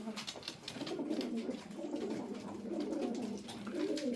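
Soft, repeated cooing of tumbler pigeons kept as a flock of play birds, a gentle rolling murmur of overlapping coos at moderate distance with faint background hiss.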